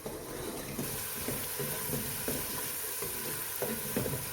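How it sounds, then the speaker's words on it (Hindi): Masala fries in a pot for beef paya, a dense, fairly quiet sizzle that holds steady throughout, with soft periodic stirring strokes underneath and no talk. "मसाला हमारा देखिए कितना ज़बरदस्त भून रहा है।"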